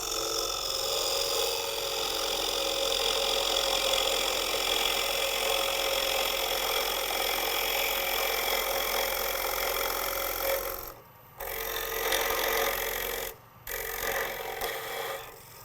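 A continuous loud mechanical whir of a wood lathe cutting through wood into MDF, steady and rough, with two brief pauses near the end.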